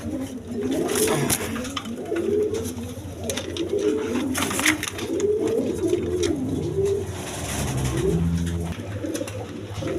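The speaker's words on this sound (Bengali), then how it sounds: "এখানে এক পেয়ার বোম্বাই কবুতর আছে" A pair of Bombay pigeons cooing close by, soft repeated throaty coos in rolling bursts with short pauses, steady and alone.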